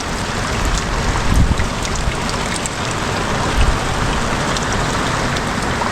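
Heavy rain drums on a camp awning at a campsite on Stradbroke Island, a loud, dense, unbroken patter with occasional louder splashes and no talking.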